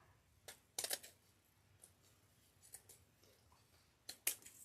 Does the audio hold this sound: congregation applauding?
no